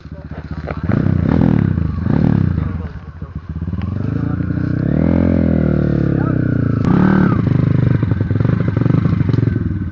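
A motorcycle engine revs and chugs nearby, rising and falling in pitch, with voices heard intermittently over it.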